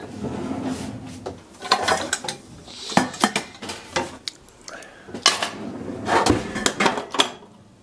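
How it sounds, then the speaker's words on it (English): Metal cookware and utensils clatter while crepes are made from milk batter with butter, with sharp irregular clinks and scrapes of a frying pan and cutlery throughout, close and fairly loud, with no talking. "Frying pan."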